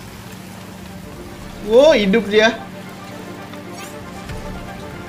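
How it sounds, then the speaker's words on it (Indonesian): Rain falls steadily in the video game Genshin Impact, a soft, continuous hiss running underneath a player who briefly speaks. "Please jangan berhenti dulu hujannya ya."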